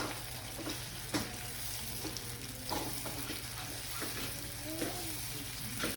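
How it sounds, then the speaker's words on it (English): Butter browning over medium heat in a pan on the stove for cardamom banana bread, giving a steady soft sizzle with a few faint clicks and stirs. "So now let's brown the butter."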